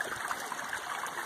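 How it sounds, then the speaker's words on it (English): Creek water flowing along the Appalachian Trail near Springer Mountain, a steady soft babbling and trickling rush, moderately close and alone. "Creek, beautiful."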